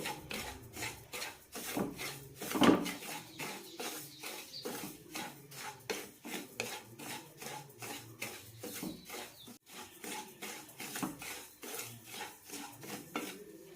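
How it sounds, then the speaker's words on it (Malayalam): Broken wheat dry-roasting in a pan while being stirred, giving a steady run of scraping, rasping strokes of a utensil against metal with a few sharper clinks, close and fairly loud, with no voices. "മൂന്നാല് മിനിറ്റ് നന്നായി വറുത്തെടുക്കണം അപ്പോഴേ നന്നായി ചൂടായി കിട്ടുള്ളൂ"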